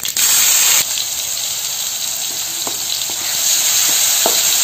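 Tomatoes go into hot oil with browned cumin seeds for no-onion, no-garlic jeera fried rice and fry with a loud, steady sizzle that hisses close up, with a few soft stirring clicks and no voices.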